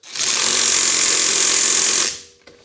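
A Lidl Parkside impact wrench hammers loudly and continuously for about two seconds as it struggles to remove a nut. The rattle is harsh and close, then a brief knock follows after it stops.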